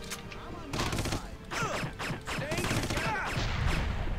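Bursts of gunfire from the video game Red Faction, rapid shots and explosive cracks repeating loudly through the clip over a dense game soundscape with shifting whistling tones.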